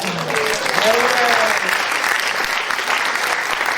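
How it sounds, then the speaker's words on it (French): A French stand-up comedy audience breaks into loud, sustained applause that fills the room, with a voice briefly heard over the clapping at the start. "Ça s'applaudit, ça."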